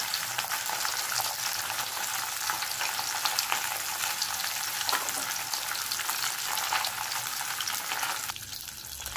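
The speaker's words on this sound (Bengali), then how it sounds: "মাছটা ভেজে নিচ্ছি।" Pieces of katla fish fry in hot oil with a loud, continuous sizzle and crackle that fades slightly at the end, no voices.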